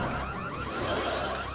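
An air raid alert siren sound effect wails loudly and steadily, a continuous rising and falling tone filling the whole moment on its own.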